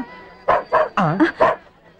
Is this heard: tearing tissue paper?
no